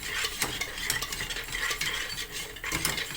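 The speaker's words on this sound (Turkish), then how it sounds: "Çok güzel kavrulsun. Un kavruldu." A spoon scrapes and stirs flour as it roasts in a pan for creamy corn soup, a steady close rustle with faint sizzling underneath and no voices.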